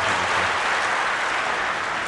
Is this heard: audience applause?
yes